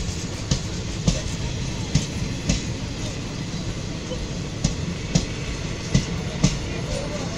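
Local Howrah-line train rolling past close by near Bendel Junction, a steady rumble with a regular series of rail-joint clacks repeating through the passage, loud and unbroken.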